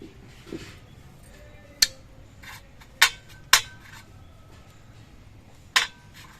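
A rice-starch mixture is spooned onto lids to make papad, with a few sharp, isolated metallic taps and clinks of the spoon spaced through an otherwise quiet room.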